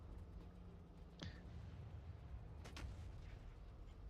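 An artillery cannon fires nearby in Factorio with Space Exploration and Krastorio 2 mods: a sharp crack, then a couple of quick reports a moment later, over a steady factory hum.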